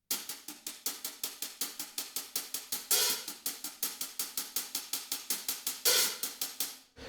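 Tightly played closed hi-hat mimics 808 electronic drums with crisp, evenly spaced short ticks in a steady groove, broken by two longer open washes, close and alone.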